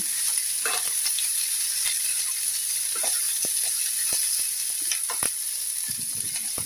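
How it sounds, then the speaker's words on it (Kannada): Cut okra stir-fried in a pan for a Udupi-style dish made without onion or garlic, a steady near sizzle broken by repeated scrapes and clacks of a spatula mixing, no speech. "ಇದ್ರ ಜೊತೆ ಬೆಂಡೆ ಕಟ್ ಮಾಡಿ ಇಟ್ಕೊಂಡಿದ್ದನ್ನು ಅದನ್ನು ಕೂಡ ಹಾಕ್ತಾ ಇದ್ದೇನೆ. ಹಾಕಿ ಚೆನ್ನಾಗಿ ಮಿಕ್ಸ್ ಮಾಡಿ"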